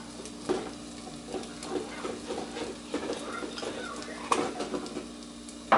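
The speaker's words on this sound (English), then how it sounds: "I'm going to stir." Jollof rice ingredients with thyme and curry powder being stirred in a pot, soft scraping and clinking of a spoon against the pot with faint sizzling, quiet and close.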